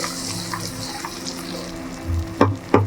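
Spice paste sizzling and frying in a pan after onions, for a Bengali red chicken curry, with a steady low sizzle and a few louder bursts of stirring near the end, no talk.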